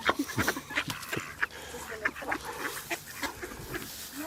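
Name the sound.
ducks quacking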